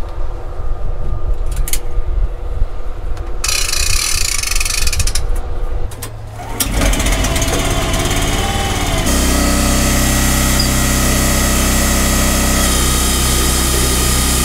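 A grain auger feeds soybeans into a planter, producing a loud, steady mechanical whir with rattling, clanking gears. A noisier surge of running machinery sets in partway through and continues.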